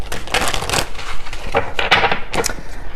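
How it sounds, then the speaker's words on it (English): Close, crisp rustling and flicking of tarot cards being shuffled, in several quick bursts of papery riffling. "let me give this a shuffle"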